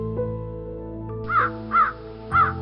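A cartoon crow gives three harsh, nasal caws in fairly even succession. The calls sit over a sustained musical backing, loud and close, with no voices.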